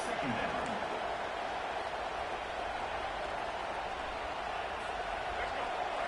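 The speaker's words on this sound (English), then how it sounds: "Listen to the crowd energy here in the early going" A football stadium crowd roars steadily through the early going of a college game, CU against Utah, a dense, even wash of many voices filling the background under a commentator.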